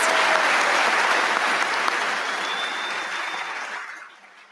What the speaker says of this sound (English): Please give a round of applause for these awardees